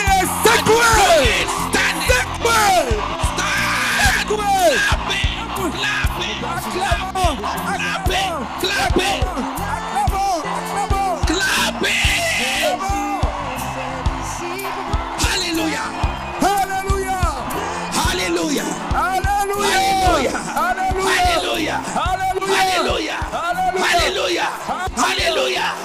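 A congregation at an evangelistic crusade meeting bellows and shouts loudly and continuously, many voices yelling and whooping together over a dense, sustained roar with pulsing low rhythm underneath.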